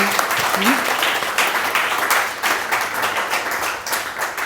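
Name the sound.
audience applause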